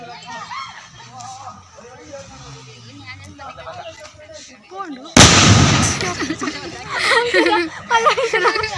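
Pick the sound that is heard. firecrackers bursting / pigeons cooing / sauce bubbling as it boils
firecrackers bursting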